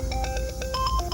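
A phone ringtone plays in a short series of electronic chiming tones at moderate volume, brief and alone with no talk over it.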